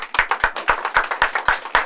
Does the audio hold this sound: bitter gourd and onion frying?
no